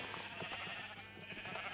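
A sheep bleats in the Minecraft video game on a sheep farm, a short wavering call buried in a dense, steady bed of background noise and music.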